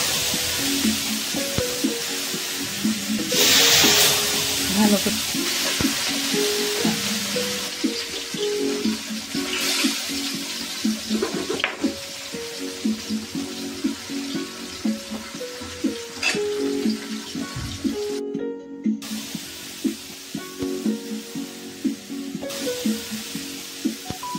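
Pieces of katla fish, rubbed with turmeric and salt, sizzle steadily in oil in a wok, with a constant crackling hiss, occasional clinks, and a brief spoken phrase.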